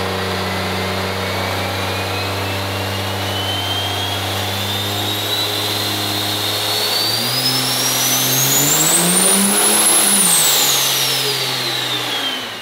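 A 6.7L diesel engine in a flatbed truck runs loud and close on a dyno. It drones steadily, then revs up hard with a rising turbo whistle, peaks near the end and begins to fall away, with no voices.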